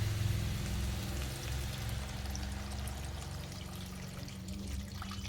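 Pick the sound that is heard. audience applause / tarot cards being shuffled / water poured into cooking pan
water poured into cooking pan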